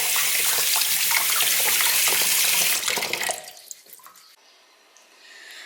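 A tap runs loudly while salted duck eggs are rinsed under it, a steady splashing stream that cuts off partway through and leaves faint drips and handling noises.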